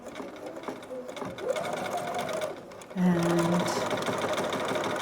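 A sewing machine runs a straight half-inch seam on a fabric hood, its motor humming steadily and rising to a louder, faster whir partway through, with a voice briefly speaking over it.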